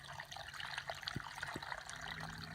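Water trickling into a bottle while collecting water outdoors at a base camp, a soft continuous running trickle with faint droplet plinks, close and quiet.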